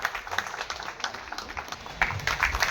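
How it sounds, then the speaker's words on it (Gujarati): An audience at a Vadodara police ceremony applauds the city's police commissioner, a crowd's clapping that is fairly steady and swells louder toward the end. "જોરદાર તાળીઓ"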